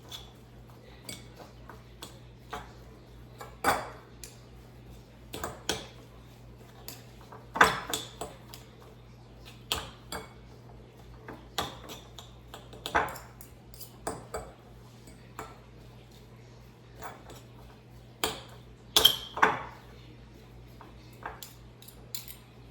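Warmed chicken being shredded for chicken salad wraps, heard as scattered light clinks and taps of utensils against a dish, irregular and close, with a steady low hum beneath and no talking.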